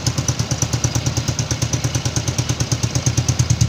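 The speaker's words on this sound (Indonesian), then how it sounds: "Langsung kita telusuri suara mesinnya." A Honda Supra X125 motorcycle engine idles close by with a loud Akrapovic racing exhaust, giving off a steady, rapid, throbbing putter that does not stop.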